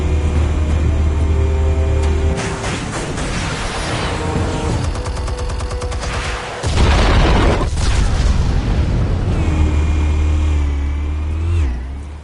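In the Batman Telltale game, armed explosives go off in a loud boom amid rumbling engines, crashes and debris, with another heavy blast mid-sequence and no voices.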